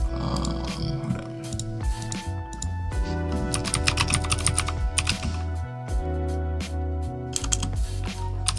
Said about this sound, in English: This is like a mechanical keyboard and it's pretty loud.